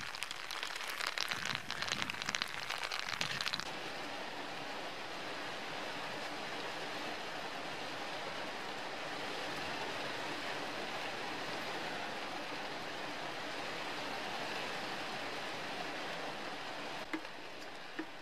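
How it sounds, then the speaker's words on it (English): Heavy rain drumming on a tin roof during a downpour with a washed-out road nearby, a dense steady hiss that runs unbroken, louder and rougher for the first few seconds before settling into a constant roar. "It's getting heavier rain again."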